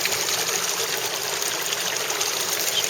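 A gravity dredge pipe sucks gravel up from underwater into a sluice, a loud steady rushing and gurgling water flow with a continuous hiss and no voices.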